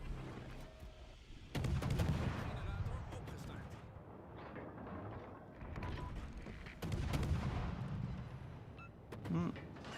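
Airstrike explosions and booming naval gunfire in the World of Warships: Legends game, heavy rumbling blasts in several waves with a sharp crack near the end, loud and layered with other battle noise.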